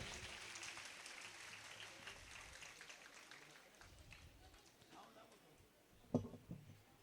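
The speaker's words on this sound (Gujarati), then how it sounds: "આપણે તાળીઓથી વધાવીએ" Applause from a women's association gathering, faint and distant, thinning out as it goes, with a few scattered claps and a sharp knock near the end.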